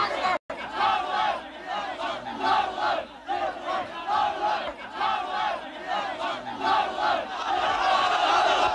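A large crowd of protesters shouts and roars continuously as soldiers are ejected from stopped buses carrying weapons into Tiananmen Square area, a loud, dense wall of massed voices with rising chants and cries.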